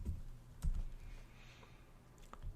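Keys tapped on a computer keyboard while a month and year are entered into a revenue goal sheet, a few scattered close clicks with pauses between them, no talk.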